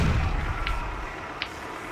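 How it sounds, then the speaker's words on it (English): Tank in Stubbs the Zombie rolling and firing, a heavy low boom and rumble at the start that fades into a steady engine drone, with a couple of faint sharp clicks. "Holy shit, I'm in a tank."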